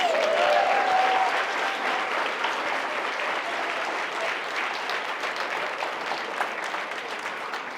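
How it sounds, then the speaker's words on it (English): A crowd at a speaking event in Atlanta breaks into sustained applause, a thick wash of clapping with a brief whistle near the start, easing slightly in loudness as it continues. "give yourselves a round of applause"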